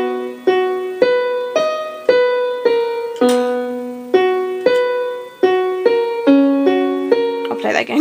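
Piano slowly plays one bar of the intro, a steady run of about fourteen evenly spaced single notes, each decaying before the next, close and clear with no talking.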